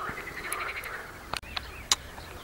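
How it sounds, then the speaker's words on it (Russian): Frogs croaking at a riverside fishing spot in spring, a steady chorus of chirring calls at moderate distance with a few sharp splashes or clicks, no voices. "Лягушки расквакались."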